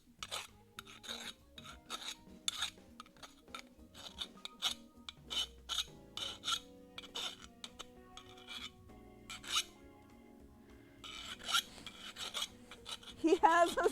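Metal edge being filed or deburred by hand with a rasping tool in a garage, a rapid series of sharp scraping strokes in bursts, close and fairly loud, with a denser flurry near the end; no talk.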